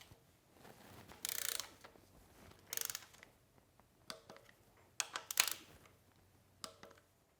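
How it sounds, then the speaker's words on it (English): Torque wrench tightening rocker arm and rocker box bolts on a Ford 6.0 Powerstroke cylinder head, heard as several separate bursts of metallic clicking and ratcheting, fairly faint, with quiet gaps between them. "you can go ahead and torque all your rocker arms and rocker box bolts"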